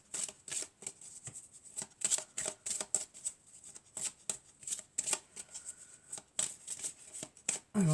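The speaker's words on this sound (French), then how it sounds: "On va mélanger d'abord." Tarot cards are shuffled close up, a quick run of crisp riffling flicks and soft slaps in uneven bursts, with no talk.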